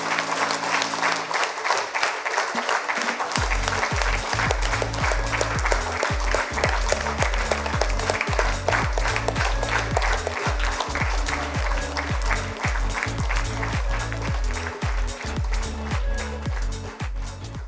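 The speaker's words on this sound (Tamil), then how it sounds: "நன்றாக கரகோஷம் அதிகமாக எழுப்புங்கள்." An audience in a meditation class hall in T. Nagar, Chennai welcomes the speaker with sustained clapping over a steady pounding low beat, the clapping loud and continuous for about eighteen seconds.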